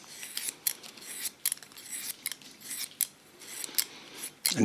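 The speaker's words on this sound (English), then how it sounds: "With a deep slice technique, I take off the weight of the back. This is also a cutting slice technique." Hair scissors make a rapid series of crisp metallic snips while slice-cutting the back of a short hairstyle, close and steady with brief louder bursts and no talking.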